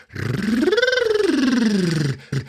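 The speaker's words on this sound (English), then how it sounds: "Tongue trill, incidentally, is when you make a sound like this." A voice produces a rolling tongue trill, rising and falling in pitch like a short warble, followed by a brief sound at the end.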